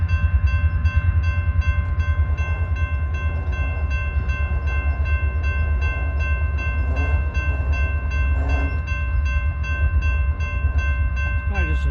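A Norfolk Southern freight train rolls steadily past close by in Granite City, Illinois, a continuous loud rumble with sustained horn-like tones throughout and brief squeals near the end.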